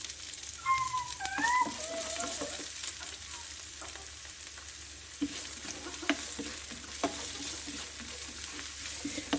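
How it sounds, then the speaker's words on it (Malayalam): Sliced onions sauté in a pan with ginger and garlic, giving a soft, even sizzle with occasional spoon scrapes and light taps, and no voices. "നമുക്കിതിലേക്ക് സവാള ചേർക്കാം."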